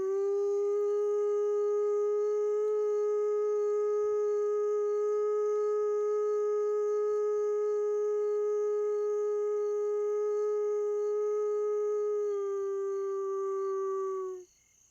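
A wolf howls in a park wilderness, one long steady sustained tone held for many seconds, then it drops slightly in pitch and cuts off, clear and alone against a quiet background.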